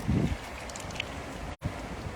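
Wind blows at sea around a fishing boat, a steady rushing buffet with gusty low rumbles against the microphone and a brief dropout.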